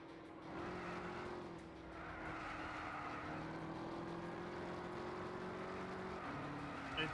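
Chevy sports exhaust engine in Gran Turismo 6, a steady sustained drone with a droning tone shifting slightly in pitch, running continuously at moderate level with no talk.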